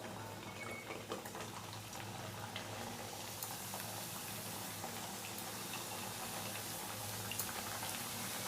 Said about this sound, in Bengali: এবারে আমি আবার একে একে দিয়ে দিচ্ছি তেলে।